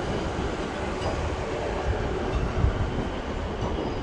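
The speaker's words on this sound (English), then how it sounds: "service to Weymouth, which I believe is that 444, is leaving." A Class 444 electric train departs London Waterloo for Weymouth, a steady close rumble of rolling stock and wheels on rail with faint clatter, continuous and moderately loud across the whole stretch.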